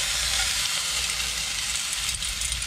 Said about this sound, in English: Alright, so we got our nice sear. Actually about to start basting it real quick.